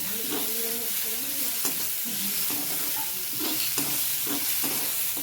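Tomatoes and vegetables stirred in butter in a pan: a steady sizzle with repeated scraping strokes of a spoon, close and continuous, with no voices.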